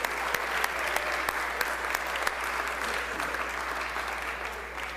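Sustained applause fills the Mississippi House chamber as members honor a Class 4A state championship team, a dense steady wash of many hands clapping with a few sharper claps standing out, with no voices.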